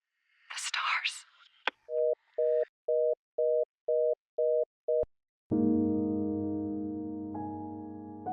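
Phone line tones on a disconnected call: a run of seven evenly spaced short beeps, then a sharp click and a sustained, steady buzzing tone that fades slowly, heard alone without talk.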